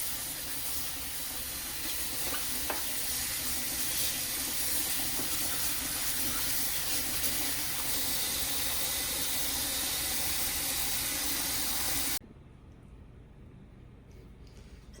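Sorrel is rinsed under steadily running water, a constant close hiss and splash that continues for about twelve seconds before cutting off to a quieter background.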